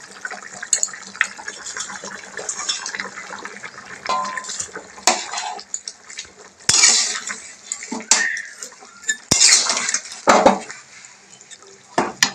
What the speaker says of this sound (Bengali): আমি এবার মাছগুলো দিয়ে দেবো।